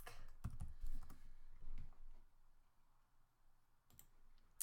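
Quiet computer keyboard typing and mouse clicks while naming layers in image-editing software, a short burst of clicks and keystrokes near the start, then sparse taps in a faint, still room.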